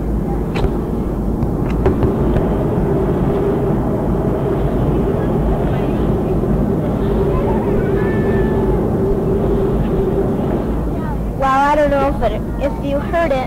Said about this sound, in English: I don't know if you could hear the noise of the plane